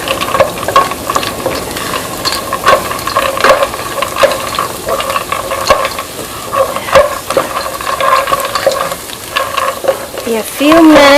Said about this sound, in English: A few minutes, keep on stirring.